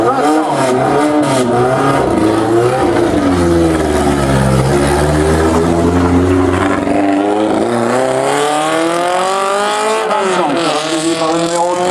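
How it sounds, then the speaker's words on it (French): An Alpine A110 racing car on a historic hill climb at Salins–Thésy roars close by, its engine rising and falling through loud revving gear changes as it accelerates past, under a public-address announcer's voice. "Une Alpine A110 portant le numéro 2."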